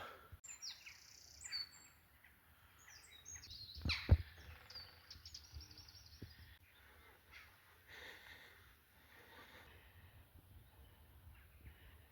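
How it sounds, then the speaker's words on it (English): Small woodland birds chirp and tweet in early spring on a limestone walking trail in the Peak District, with several overlapping calls near and far, a louder burst around the middle, and faint rustling under a quiet outdoor background. "woodpeckers down here, all sorts of little birds"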